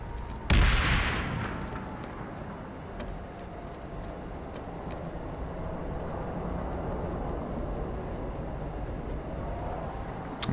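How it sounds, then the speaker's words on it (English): A grenade bursts in the PlanetSide 2 video game as a sharp, loud blast with a brief rumbling tail, followed by sparse ticks and distant gunfire over a steady low background. "Chuck a grenade in."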